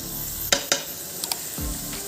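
Tomatoes and green chilies tipped into a pan of sizzling masala for fish curry, giving a couple of sharp clatters followed by a steady frying hiss, close and moderately loud, with no voices.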